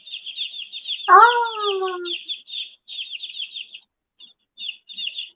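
A toy plays recorded baby chick peeping: rapid, high, repeated peeps in short bursts with brief gaps, fairly close, while a voice briefly utters a sound.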